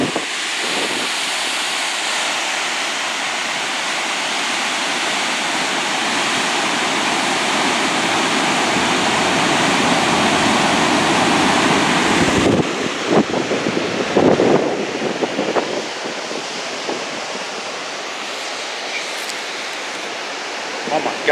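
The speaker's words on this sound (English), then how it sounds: "If I'm not mistaken, that's Yellowstone River." Loud, steady broadband roar of the Yellowstone River rushing below a long drop, continuous for most of the stretch, then turning choppier with gusting wind buffeting the microphone near the end.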